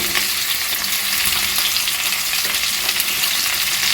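Cut pumpkin and pointed gourd frying in a pan for a mixed vegetable curry, a loud, steady, dense sizzle with faint stirring underneath, continuous throughout with no voices.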